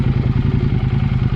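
A KTM 790 Adventure R fitted with a Wings slip-on exhaust idles close up with a steady, loud, throbbing low pulse and faint mechanical clatter.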